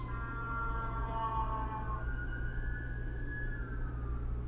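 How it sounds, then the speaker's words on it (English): An ambulance siren wails along a city street in Newark, a long rising and falling tone that shifts pitch as it goes by, heard over a low steady hum of traffic. "ambulance."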